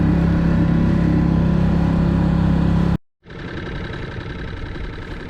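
A small dinghy's outboard motor drones steadily out on a lake, loud and close, cutting out briefly partway through before picking up again.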